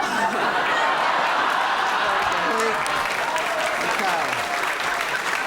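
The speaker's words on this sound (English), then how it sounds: "They're applauding what they've just read." Studio audience on a 1994 Saturday-night BBC light-entertainment show bursts into steady, loud applause that fills the whole stretch, a dense wash of clapping with a few chuckles mixed in.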